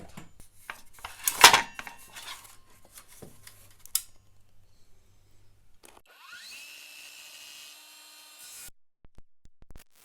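A Peugeot cordless circular saw cuts through a 40 by 60 mm piece of timber, a sharp burst of cutting noise followed by a steady whining run as the blade spins down, with no talk.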